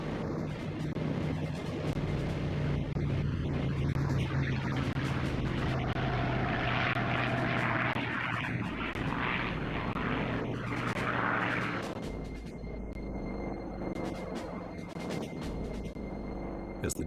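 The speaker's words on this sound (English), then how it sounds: "the first wave of Japanese aircraft took off." Japanese WWII propeller aircraft taking off, their engines producing a loud, continuous droning roar that swells and shifts steadily throughout with no pauses.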